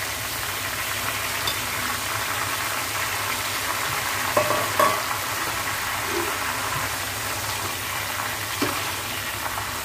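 Sliced nendran banana chips fry in hot oil with a steady, dense sizzle and a few louder pops and bubbling bursts partway through.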